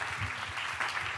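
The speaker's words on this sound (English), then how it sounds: "Give an applause" Audience applause at a women's leadership seminar in a hall, steady broadband clapping filling the short moment at moderate level, with a faint voice or tone underneath.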